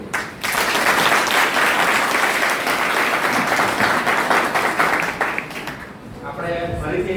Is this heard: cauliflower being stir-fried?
no